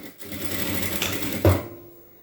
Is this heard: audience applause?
no